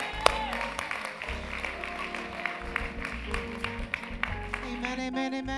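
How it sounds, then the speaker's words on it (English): A church congregation applauds at a Resurrection Sunday service, with scattered clapping running under loud music with a heavy bass, and voices mixed in. "Congregation, give them a round of applause."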